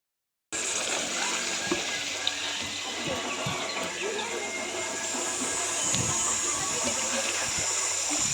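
An artificial waterfall at a lakeside resort in Panshet near Pune gives off a continuous broadband rushing hiss, steady and fairly distant, with faint voices and occasional knocks in the background.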